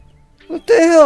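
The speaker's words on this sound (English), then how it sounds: "Is this a young sheep?" A young sheep in the Hytale video game bleats twice in quick succession, a short nasal call followed by a longer wavering bleat, close and fairly loud with no talking.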